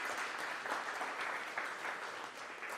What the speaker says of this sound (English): So big round of applause for